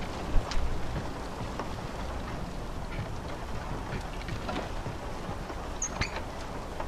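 Hard-falling rain in the horror game Fobia, a constant even patter and hiss with scattered sharper drips and taps, fairly quiet and close, with no talking.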